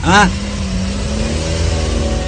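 A car engine idles and revs in a loud, close, steady rumble, opening with a short vocal-like sound over the motor before the engine carries on alone.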